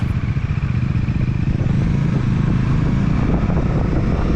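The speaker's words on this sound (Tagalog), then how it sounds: "Ang ganda ng response ng engine mga idol." A Bajaj Dominar 400 motorcycle on a race track, its engine droning loud and steady with a fast low pulsing rumble and wind buffeting the microphone throughout, no talking.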